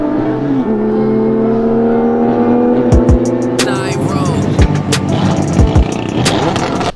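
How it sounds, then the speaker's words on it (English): Car engines roar and rev through a tutorial's audio mix, sustained and loud, with a couple of sharp passes and pitch sweeps partway through, layered under tonal music. "the cars are actually making a lot of noise"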